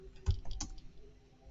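A few quick, quiet keystrokes on a computer keyboard, a short burst of light clicks close by, with no talking.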